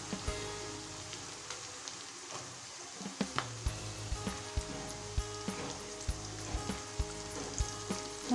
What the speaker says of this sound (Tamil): இப்போ பீன்ஸ் போடுறேன்.